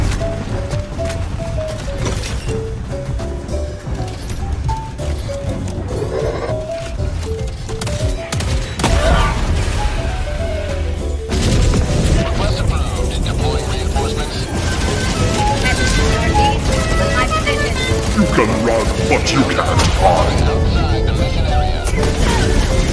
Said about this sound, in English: Damn, you call the airstrike?